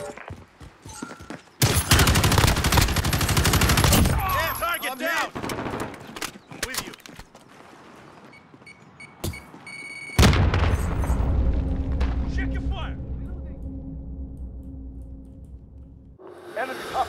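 Bursts of rapid gunfire and heavy booming explosions in Call of Duty Modern Warfare (2019), loud and close, alternating with quieter stretches and a sustained rumbling blast near the end.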